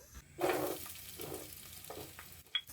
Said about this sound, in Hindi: अब हम इसमें 2 अदद प्याज डालेंगे।